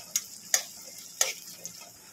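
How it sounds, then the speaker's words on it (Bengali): Sliced onion frying in a pan of oil for doi masala bhindi: a low, steady sizzle broken by a few sharp ticks and clicks of a utensil against the pan, close and fairly quiet. "পেঁয়াজটা একটু ভেজে নেব।"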